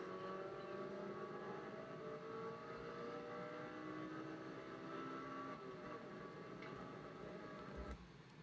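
Race car engine on the Nelson Ledges road course, droning steadily and loudly with rising harmonic tones as it accelerates out of a tight corner, a sustained close, continuous roar throughout.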